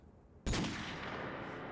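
A single sharp gunshot from a video game bursts in suddenly after a quiet moment, then decays into a long reverberant tail that lingers to the end.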